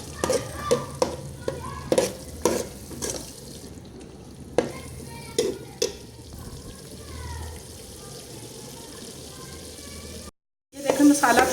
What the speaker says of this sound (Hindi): ये मसाला हमारा भून लिया गया है